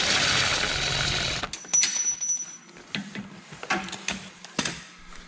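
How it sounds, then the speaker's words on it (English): An impact wrench on a long extension breaks a bolt loose on a 2010 Camaro SS during an A/C compressor swap: a loud sustained rattling hammer for about a second and a half, then short bursts and clanks of tool handling. "I'm gonna take this long extension with my impact"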